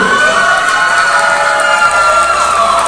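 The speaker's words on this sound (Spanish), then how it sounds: "Último aplauso para definir primero y segundo lugar." A crowd at an anime convention contest applauds and cheers in one loud, dense, continuous roar that never lets up.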